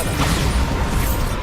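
A Bombarda spell blast in Hogwarts Legacy, a loud dense crashing burst that fills the whole moment with rumbling impact and debris noise.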